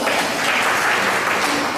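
A hall of people clapping together at a community event in Tripoli, Libya, a thick, even burst of applause that holds loud throughout with a little murmur of voices beneath.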